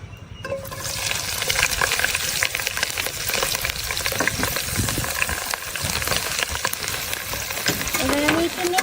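Chopped onion and chili hit hot oil in a pan, a loud, continuous crackling sizzle that holds steady throughout, close by.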